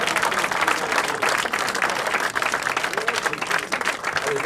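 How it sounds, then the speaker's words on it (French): Dense, sustained audience applause with crowd noise fills the hall as a troupe dressed as gendarmes is called onto the stage at a live comedy show; steady clapping throughout, no speech. "sous vos applaudissements nourris"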